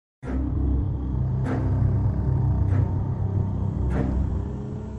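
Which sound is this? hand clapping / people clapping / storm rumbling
storm rumbling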